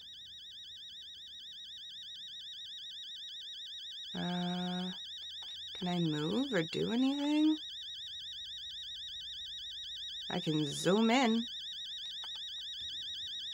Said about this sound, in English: Oh, it's an alarm clock.